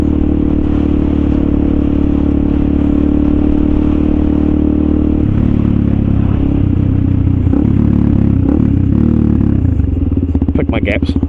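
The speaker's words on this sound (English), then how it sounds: "Yeah, the bike's loud." A Suzuki DRZ400SM motorcycle engine drones loudly and steadily throughout, with a shift in pitch midway and some revving and clatter near the end, heard close up and dominating the sound.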